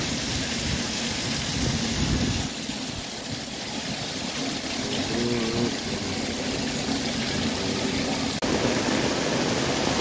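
Steady rain pours down outdoors as people step out to get soaked in it, a continuous even hiss throughout with brief murmurs of voices underneath.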